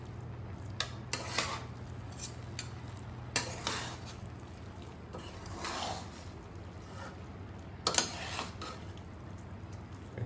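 A spoon gently stirs masoor pulao rice in a pot, giving soft, scattered scrapes and light clinks against the metal, fairly quiet with a low hum underneath and no voices.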